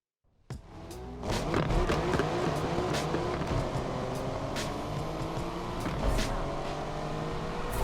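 A tuned car in the racing game Need for Speed Unbound roars away after a brief silence, engine droning loud and steady with repeated sharp tire squeals as it corners, no voices over it.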